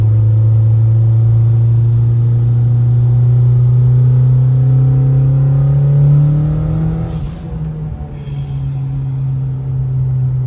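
A heavy truck engine drones loudly and steadily, its tone rising slightly as if under load, then dips and roughens briefly before settling back.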